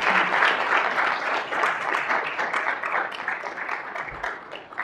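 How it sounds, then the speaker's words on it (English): Steady applause from a forum audience welcoming a speaker at a public health ethics event, many hands clapping continuously and fairly loud, tapering slightly toward the end. "Let's give a hand clap for Dr."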